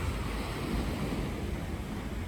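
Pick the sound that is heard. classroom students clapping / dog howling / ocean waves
ocean waves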